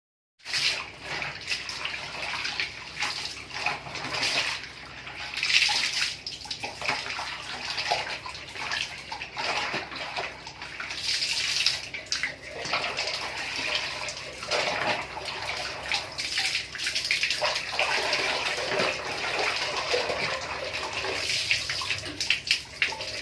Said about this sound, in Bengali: এখন ধুয়ে দিচ্ছি, ধুয়ে দিলেই আমার হয়ে যাবে